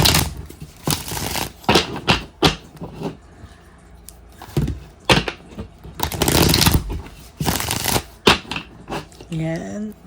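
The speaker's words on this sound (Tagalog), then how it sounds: "balasahin lang po natin" A deck of playing cards is shuffled up close in a series of crisp, rapid riffling bursts separated by short pauses, with a voice briefly heard near the end.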